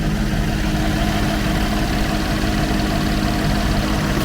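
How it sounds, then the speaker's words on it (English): A 2013 Chevy Equinox engine runs at a steady idle during a rebuild, a constant loud mechanical hum with a faint ticking texture and no voices. "Engine sounds pretty good, but we got a lot of things we got to hook up."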